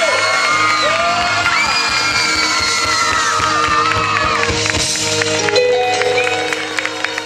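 Concert crowd applauds and cheers for a local mayor, loud clapping mixed with whoops, whistles and shouting voices, including children, over a steady musical hum that fades slightly at the end.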